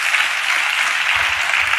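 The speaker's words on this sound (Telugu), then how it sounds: "చప్పట్లు కొడుతూ స్తోత్రాలు చెప్దాం" Congregation at a Hyderabad church service clapping together in praise, a steady dense wash of applause close by, continuous throughout with no voices standing out.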